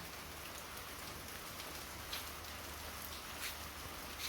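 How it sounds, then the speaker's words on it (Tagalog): Heavy rain pours down in a steady, dense hiss, with occasional louder splatters of drops close by. "ito ang lakas talaga ng ulan"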